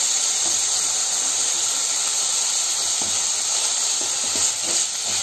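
Mint leaves and chopped coriander are stirred in a hot kadhai for kadhai pudina paneer, giving a loud, steady sizzling hiss with faint scraping stirs scattered through it and no talking.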